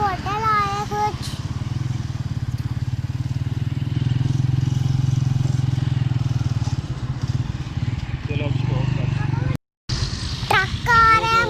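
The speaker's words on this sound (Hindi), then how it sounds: "ट्रक आ रहा है, मोटरसाइकिल आ रही है और कार आ रही है।" Road traffic with a truck, motorcycle and car going by, heard as a continuous loud engine rumble that dominates most of the stretch. Someone talks briefly near the start and again at the end.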